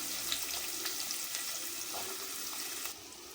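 Onions sautéing in hot oil with mustard seeds, cumin, fennel and garlic, a steady close sizzle and crackle throughout with faint stirring, no talking.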